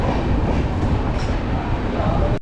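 Train running on the main line toward Ambala in Punjab, heard from inside a general coach of an intercity train: a steady, loud rumble with rattling and faint wheel clatter throughout, no voices.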